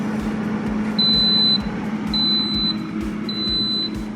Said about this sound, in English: All right, that's the air fryer.